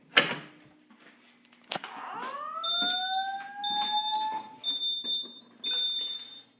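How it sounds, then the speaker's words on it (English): Piezo alarm buzzers sound in repeated shrill, steady high-pitched beeps, with clicks and a rising electronic tone at the start, close and loud. "You'll hear the two piezos beeping."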